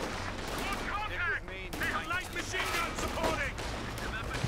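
In Company of Heroes 2, a Puma's main gun and machine gun fire at a retreating unit, giving repeated cracks and booms amid a busy battle soundscape, with a commentator talking over it.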